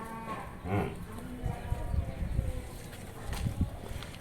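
A heavy Murrah buffalo, heavily pregnant, gives a few low, drawn-out moos close by, with faint rustling and farmyard noise in between.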